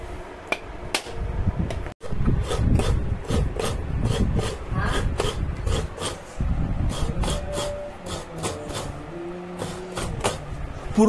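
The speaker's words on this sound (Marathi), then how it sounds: "त्याचप्रमाणे हा नारळ किसला जातो" Fresh coconut grated by hand for Malvani mango-flavoured coconut burfi, a dense run of rough rasping and scraping strokes in quick rhythm, close and fairly loud, with a brief pause near two seconds.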